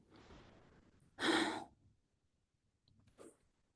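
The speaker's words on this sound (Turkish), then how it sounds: "derin bir nefes alalım" A deep audible breath drawn in, then a slow exhale, followed by a quieter second breath in an otherwise hushed space.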